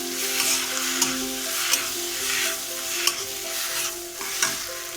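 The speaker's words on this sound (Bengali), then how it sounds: "এবার আমি ম্যাশ করা আলুটা দিয়ে দেব, দিয়ে ভালো করে এটা কষিয়ে নেব।" Mashed potato stir-fried in a pan gives a bright, continuous sizzle broken by regular scraping strokes of a spatula roughly every second, close and steady with no talking.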